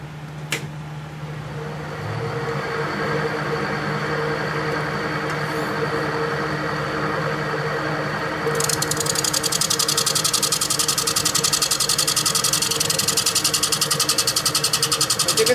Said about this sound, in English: I'm gonna start retooling this up and use my 5/8 bowl gouge on this case.